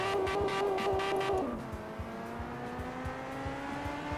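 Engine of a car in the Car Parking video game holds a steady revving drone, then the pitch drops as it shifts gear and keeps climbing slowly, with clicking ticks running under it.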